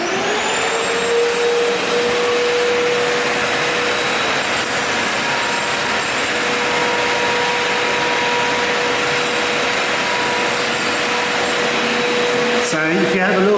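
Milwaukee M18 cordless vacuum running loud and steady up close as it sucks up small nuts and bolts, with a brief rattle of debris near the end.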